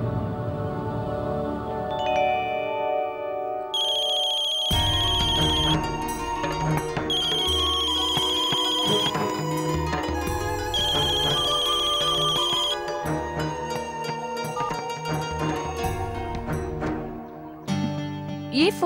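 A phone ringtone plays steadily in a Tamil TV serial scene, a melodic electronic tune with repeating bright tones that rings on for nearly twenty seconds, loud and continuous with no talk over it.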